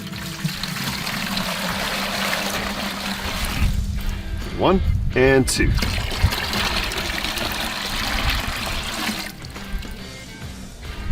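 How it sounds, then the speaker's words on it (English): Two gallons of water pour into a bucket to make turkey brine, a continuous rushing, splashing stream with a brief gurgle partway through, under someone speaking briefly. "We're going to start with 2 gallons of water."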